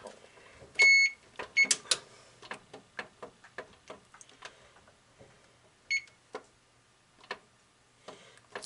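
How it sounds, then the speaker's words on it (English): A kitchen timer is being set while cooking extra large potatoes: short electronic beeps sound at the start and again later, with a steady run of faint mechanical ticks between them in a quiet room. "Setting my timer."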